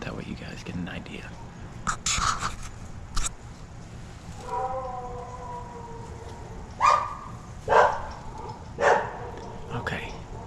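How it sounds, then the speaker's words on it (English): Several dogs bark back and forth in a suburban neighborhood at night, with a few loud, sharp barks near the end and some yips in between. A person speaks quietly over the barking. "But I think these dogs are barking at each other"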